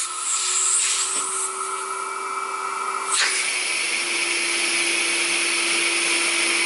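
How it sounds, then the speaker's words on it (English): A 1970s Compact C9 Tristar vacuum cleaner with its rug tool runs steadily with a high, whining motor tone that dips briefly before settling into a constant roar. "Let's see what it does with the rug tool."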